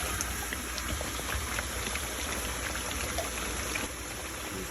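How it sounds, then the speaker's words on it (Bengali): Beef curry boiling in a covered pot on a home stove gives a steady, dense bubbling hiss, continuous and fairly close, with no voices. "ঢাকনাটা দিয়ে দেওয়া হলো, আবার একটু গরম পানি দিয়ে দেবে।"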